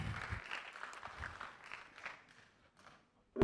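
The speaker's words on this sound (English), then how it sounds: "A round of applause for her, please." Audience applause at a panel discussion on government policy innovation, faint and scattered, fading out over a few seconds before a sudden sound at the very end.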